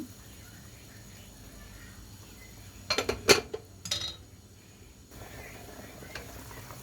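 Radish and other vegetables go into a simmering pot of beef sinigang: a low background hiss, then a short cluster of metallic clinks and knocks from the pot and utensils before it settles again.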